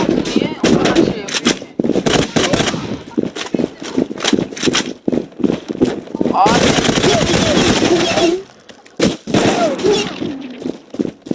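Rapid automatic gunfire from a Zula online shooter match rattles in dense bursts throughout, with a brief lull near the end before more shots, while players talk over it.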